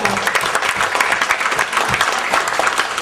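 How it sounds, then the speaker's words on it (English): Loud, close audience applause fills a hall during an awards or recognition program, many hands clapping in a dense, energetic patter with a few sharper individual claps standing out throughout. "Can we give her a big round of applause?"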